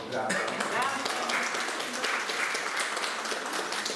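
An audience at the opening of a sea-themed art exhibition breaks into steady, sustained applause, with a speaker's voice briefly heard at the start and scattered voices under the clapping.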